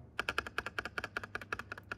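Rapid keystrokes on a Machenike KT68 mechanical keyboard, about twenty crisp, close clacks in an even, quick typing rhythm with nothing else heard.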